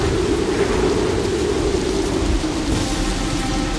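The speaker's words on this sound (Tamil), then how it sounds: "மழை கோவர்தன மலையின் மேல் கொட்டி தீர்த்தது." Heavy rain pours over Govardhan Hill in an animated Sri Krishna story, a loud, dense, steady hiss that never lets up and carries a low rumble beneath it, with no voices.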